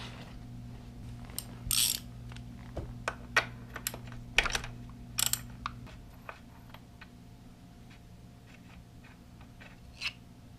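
A ratchet fitted with a 15/16 socket works on a Suzuki DRZ400S motorcycle during an oil change. Separate clicking strokes and short bursts of ratcheting come over a low steady hum, and they grow sparser toward the end.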